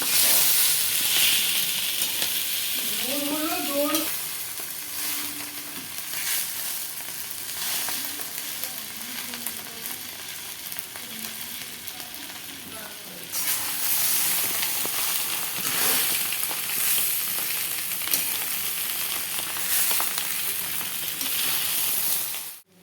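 Chowmein being tossed and fried with mixed vegetables in a pan, a continuous loud sizzle with scraping and stirring, briefly swelling midway, close up and without talk.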